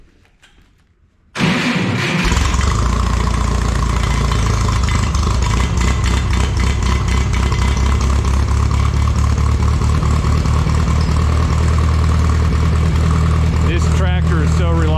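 A Minneapolis Moline G950 tractor engine cranks briefly after a quiet start, then catches and settles into a loud, steady, close idle with a throbbing low rumble for the rest of the clip.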